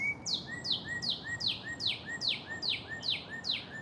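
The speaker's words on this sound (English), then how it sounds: "We have some mockingbirds and a cardinal and something else up here." A bird outdoors repeats a bright, clear whistled phrase about every half second, steady and fairly near over a soft background hiss, in a setting where mockingbirds and a cardinal are singing.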